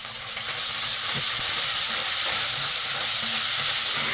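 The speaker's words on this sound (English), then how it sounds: "Then add in lean meat cubes and toss around for a minute." Lean pork cubes are tossed in hot rendered pork fat in a wok, giving a loud, dense, continuous sizzle with a steady hiss and occasional faint scrapes up close. No one speaks.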